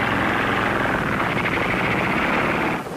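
Engine of a 1930s roadable aircraft with turntable wings taxiing along a field, a loud, continuous droning whir that holds steady and then drops off abruptly near the end.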